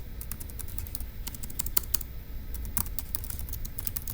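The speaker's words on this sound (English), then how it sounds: "so let's type that up" Steady keyboard typing, a run of quick light key clicks close by over a low background hum, with no voices.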